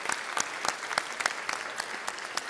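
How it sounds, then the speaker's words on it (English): An audience applauds the sponsors at an event in Miami, a moderate, fairly distant spread of hand clapping with distinct individual claps, steady for the whole stretch. "Please give them a round of applause."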